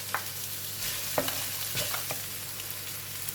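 Chili and carrot cubes frying with ginger garlic paste for tomato rice give a quiet sizzle with a few soft stirring scrapes.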